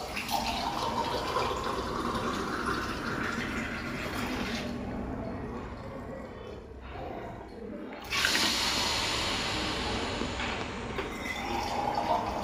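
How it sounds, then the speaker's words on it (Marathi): Water pours in a steady splashing stream into a pot of vegetables for pulao, pausing briefly midway before pouring resumes, fairly close. "आता आपण भाजी शिजत थोडंसं पाणी टाकू त्यामध्ये"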